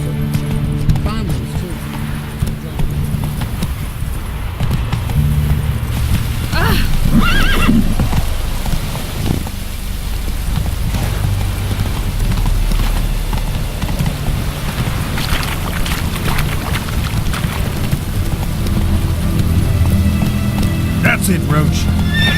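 In The Witcher 3, the horse Roach neighs repeatedly and trots with steady clip-clop hoofbeats, the whinnies loud and close over outdoor wind, while someone speaks calmly to the horse.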